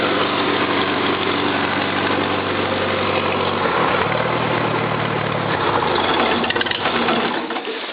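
A Farmall Cub tractor engine idles steadily after a cold start, a continuous loud mechanical chug with a slight stumble near the end and no talk over it.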